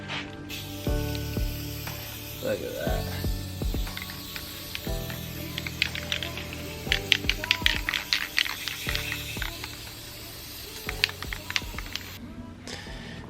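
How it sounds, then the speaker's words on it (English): An aerosol can sprays paint onto a surfboard in short, hissing bursts against a background of continuous music, and a voice speaks briefly partway through. "I have another spray paint bottle"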